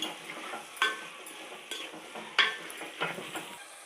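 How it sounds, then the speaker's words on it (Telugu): Prawn biryani masala stirred and frying in a pan, with a soft steady sizzle and several sharp scrapes and clinks of a spoon against the metal at irregular intervals, close and clear with no talk. "వేసి ఒకసారి బాగా కలుపుకొని ఒక రెండు నిమిషాలు వేసుకొని"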